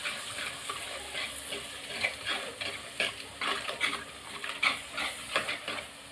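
Garlic kulambu with chili powder stirred in a pan, soft intermittent scraping and stirring strokes with a faint sizzle underneath, quiet and close in a home kitchen.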